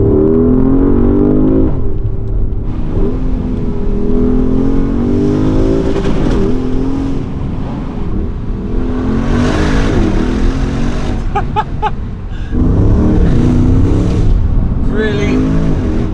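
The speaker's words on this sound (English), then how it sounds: "Inside, you get some nice engine sound, not massive, but bearing in mind it is a luxury SUV" A 2020 Porsche Cayenne Turbo Coupe luxury SUV, heard from inside the cabin, gives a loud continuous engine and exhaust drone that rises and falls through revs, with brief sharper bursts late on.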